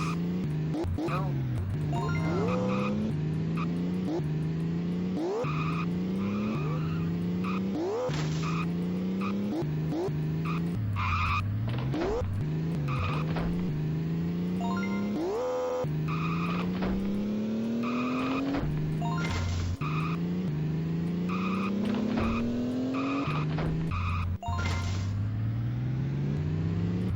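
Video game cars rev and drive with engine pitch rising and falling in repeated cycles, punctuated by tire squeals and skids, loud and continuous throughout.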